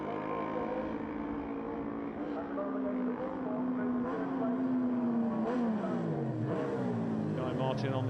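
Racing motorcycles, including a 750 BSA, roar past at the 2021 Armoy Road Races. Engine notes climb and drop in pitch as the bikes pass close, loud and continuous.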